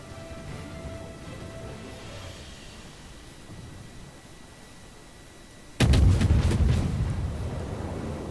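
Warship guns firing in World of Warships, a sudden loud booming salvo after a quiet stretch of engine and ambient hum, followed by a rolling rumble that trails off.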